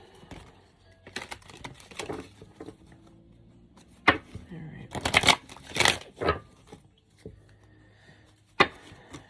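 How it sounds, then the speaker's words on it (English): Tarot cards are shuffled in quick, crisp bursts of riffling and tapping, with softer handling sounds and pauses between them, close by. "Just shuffling a few more times so we can get into this energy."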